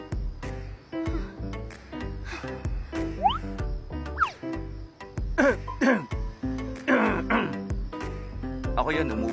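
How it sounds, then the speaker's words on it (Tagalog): Coughing and throat clearing come in bursts amid lively talk and busy background sound, fairly close. "Ako yun, umubo ako."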